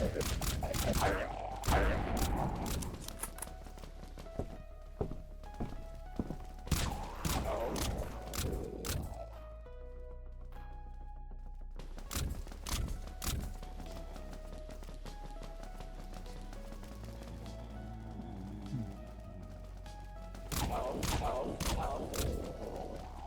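Dusk Carbine gunfire in the zombie shooter Dead Frontier, with rapid bursts of shots repeating throughout over a steady game backdrop and occasional thuds and footsteps.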